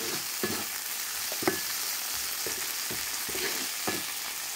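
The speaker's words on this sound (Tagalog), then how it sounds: "So, halo-halo yung ating kakarampot na ampalaya." Bitter gourd (ampalaya) stir-fried in a hot pan, a steady sizzle under soft periodic scrapes and clicks of a utensil stirring, close and continuous with no voices.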